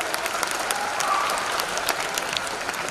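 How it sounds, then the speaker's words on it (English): Loud, dense applause from the audience at a 2018 girls' school annual day, continuous clapping for the guest of honor with no talk over it. "Can we have a big round of applause for him?"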